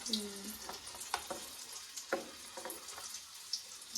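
Alu vadi pieces frying in hot oil, a steady crackling sizzle with sharper pops as each piece drops in, close and moderately loud, with no talking.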